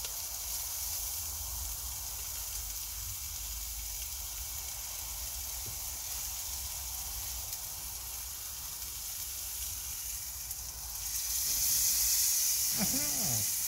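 Food sizzles in two mess tins set on a frying pan outdoors, a steady loud hiss throughout that swells near the end as the dish is flambéed, with a brief whoosh of flame.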